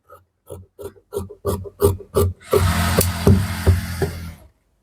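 Scissors cut through kameez fabric in a series of short, crisp snips, about eight in a row, followed by a longer rasping cut, close up with no talk.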